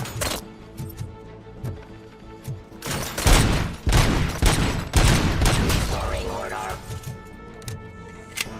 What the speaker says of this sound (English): So they're all using micro SMGs.